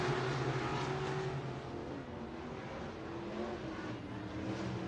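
IMCA Sportmod race cars roar around the dirt oval at Buena Vista Raceway, a steady loud engine drone with droning harmonics that rises and falls slightly as the pack passes.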